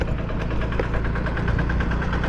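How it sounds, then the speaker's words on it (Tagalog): Engine idling steadily on a farm where ampalaya (bitter gourd) is grown, a continuous low rumble with a faint knocking pulse throughout, fairly close and with no voices. "papatay na rin ni paring Carlo yung makina"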